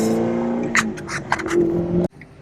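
A straight-piped 2014 Corvette Z51 engine drones loudly and steadily nearby, with a few rasping surges in the middle before the sound cuts off abruptly.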